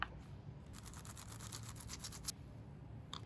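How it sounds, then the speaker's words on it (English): An ink roller is worked back and forth over a damp polyester litho plate, giving close, quiet, sticky rolling strokes in a steady rhythm for a couple of seconds, followed by a few soft clicks. "Re-ink it up with the roller."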